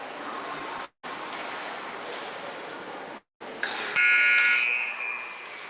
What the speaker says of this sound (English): You heard the buzzer ending the warm-up period